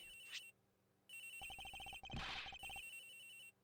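A video-game cell phone ringtone, ringing from a locker, repeats in short melodic bursts with brief pauses between, clear and synthetic, with no talking.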